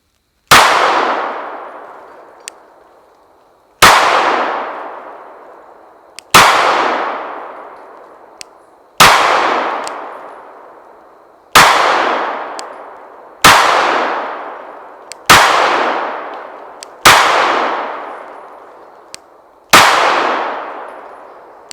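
Ten evenly spaced shots from a Glock 43X pistol ring out at a range, each sharp crack followed by a bright metallic clang from steel targets 10 yards away, with roughly two-second gaps between shots and nobody speaking.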